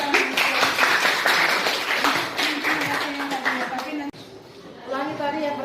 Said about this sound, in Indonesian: kita berikan dulu tepuk tangan.